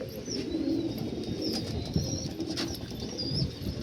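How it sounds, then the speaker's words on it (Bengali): Freshly bathed malwai pigeons coo in repeated soft calls over a steady ambient murmur, with occasional bursts of wing flapping close by and no voices. "এই হচ্ছে পায়রা"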